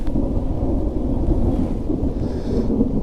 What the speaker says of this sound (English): All right, yeah, it's still thundering.